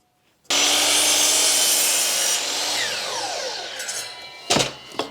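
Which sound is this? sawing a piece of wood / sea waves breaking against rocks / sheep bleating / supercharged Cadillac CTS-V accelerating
sawing a piece of wood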